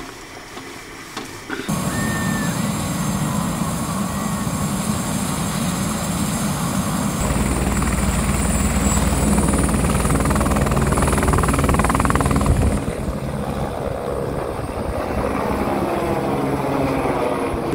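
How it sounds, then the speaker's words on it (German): Loud, steady whirring drone of a helicopter that has landed close by, rotor chop sustained throughout, with the engine pitch shifting partway before settling. "weil nämlich der Hubschrauber direkt hier neben uns gelandet ist"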